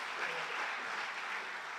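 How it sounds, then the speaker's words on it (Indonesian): A church congregation at a Sunday worship service in Batam claps together in a dense, even wash of applause that runs steadily throughout at moderate loudness, heard from within the hall. "Beri tepuk tangan lagi buat Tuhan kita."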